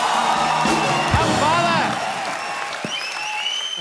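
A studio audience at The Kapil Sharma Show comedy talk show bursts into loud, continuous applause mixed with cheering and a few whoops, holding steady before easing slightly.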